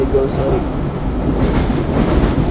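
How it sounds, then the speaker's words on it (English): A Cleveland Rapid commuter train rolls along its rails, a loud, continuous close rumble and rattle from inside the car, with a person briefly talking over it. "So I'm on a train right now, so we take the rapid here in Cleveland."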